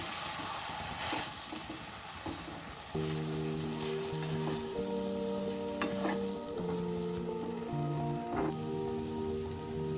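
Beaten eggs, three of them, stirred into frying vallarai greens in a pan: a steady sizzle with scraping stir strokes throughout, growing fuller after the eggs go in around three seconds, plus a faint tonal hum in the background.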